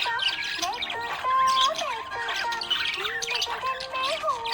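A happy budgie chirps busily and without pause, mixing bright tweets with rasping squawks at close range. No voices can be heard.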